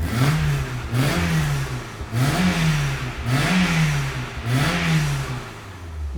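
A BMW E30 3-Series engine revs, heard from behind the car, in five or six loud, even blips that each rise and fall back toward idle in a steady rhythm.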